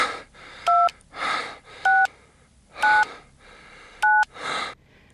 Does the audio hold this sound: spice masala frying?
no